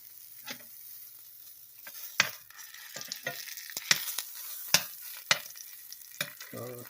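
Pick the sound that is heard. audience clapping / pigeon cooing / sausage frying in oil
sausage frying in oil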